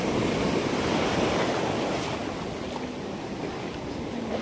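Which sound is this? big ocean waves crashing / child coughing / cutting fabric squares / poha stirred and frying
big ocean waves crashing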